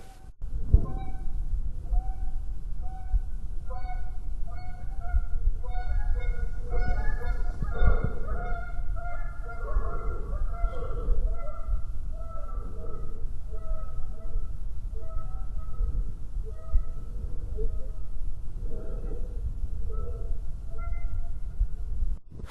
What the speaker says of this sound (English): stopping to listen to the birds